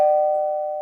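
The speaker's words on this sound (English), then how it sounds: "Then the doorbell rang." A doorbell rings once with a single clear, sustained electronic tone that slowly decays, close and loud with nothing else heard.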